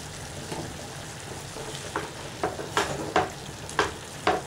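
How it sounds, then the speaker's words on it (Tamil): Cauliflower poriyal frying in a pan is stirred, with a soft steady sizzle and a series of distinct scraping stirs growing louder toward the end, heard alone without talk. "கொஞ்சம் கலக்கி விடுங்க இன்னும் கொஞ்சம் வேகணும்"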